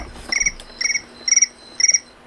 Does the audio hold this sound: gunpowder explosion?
no